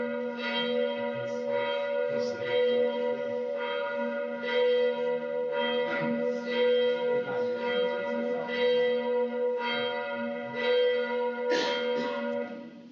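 Church bells in France, heard as a played recording, ring in a steady repeating pattern of rich resonant strikes with long overlapping hum, continuous for several seconds at moderate loudness with no voices.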